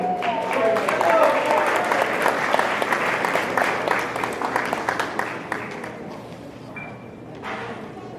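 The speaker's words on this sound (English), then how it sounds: "Please give them a round of applause." An audience at a high school senior night applauds students, sustained dense clapping that fills the hall and then gradually thins out, with a voice briefly heard over it.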